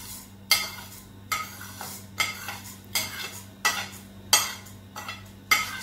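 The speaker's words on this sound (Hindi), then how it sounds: "मेथी दाना डालूंगी।" Fenugreek seeds stirred in hot oil in a metal pan, with a spoon scraping and clinking in regular strokes, about eight distinct stirs over a faint background hum.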